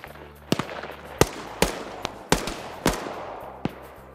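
Sharp gunshots ring out in a survival video game, about eight separate cracks spaced irregularly over a few seconds, each with a quick decaying tail over a quiet background.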